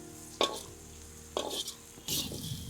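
Squid pieces frying until reddish in a pan during an outdoor jungle cook, heard as three short bursts of stirring and sizzling separated by quieter gaps.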